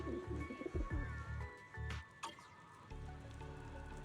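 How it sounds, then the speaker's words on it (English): Pigeons cooing in the video game Zenless Zone Zero, a few soft rhythmic coos near the start followed by a clanking thud and a faint background hum. "Is that a pigeon I hear?"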